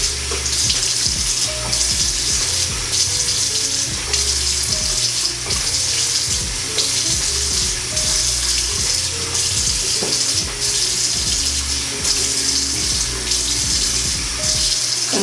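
Tap water runs steadily into a bathroom sink during a face-washing skin care routine, a continuous close splashing stream that lasts throughout with no talking.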